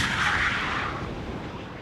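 A cannon fires bar shot at short range in a naval gunnery demonstration: a loud, close blast of broadband roar that swells and slowly fades over about two seconds, with no voices.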